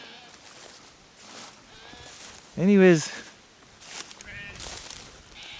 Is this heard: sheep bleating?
yes